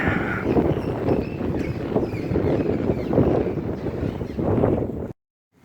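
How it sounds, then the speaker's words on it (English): Cold wind in Fallon, Nevada buffets the microphone in loud, gusting rumbles that rise and fall for several seconds before cutting off abruptly. "It's so windy and cold here today."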